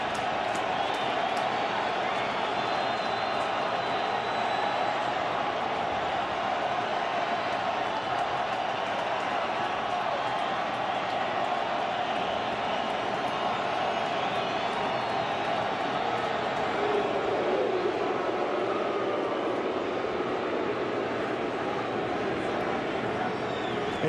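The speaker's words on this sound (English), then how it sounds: "I don't know how a crowd this soaked can make this much noise" A rain-soaked baseball stadium crowd at the 2008 World Series Game 5 between the Rays and Phillies roars continuously, a dense, distant wash of cheering and noise with a commentator talking over it.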